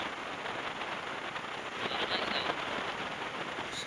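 Steady rain falling during a rainy road journey in Tamil Nadu, a continuous broadband hiss at moderate level with no voices, swelling slightly midway and holding even throughout.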